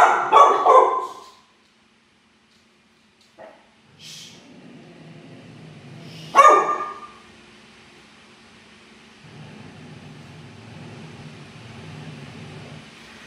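A pit bull gives a few loud, close barks in short bursts, with quieter barks and shuffling in the gaps between them.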